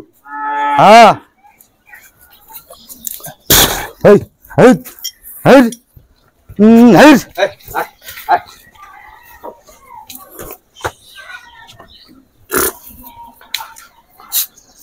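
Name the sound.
Sahiwal bull calves mooing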